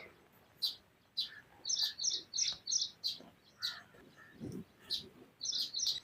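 A baya weaver bird near its nest gives a string of short, bright chirps, repeated in quick bursts at a moderate distance over quiet outdoor background.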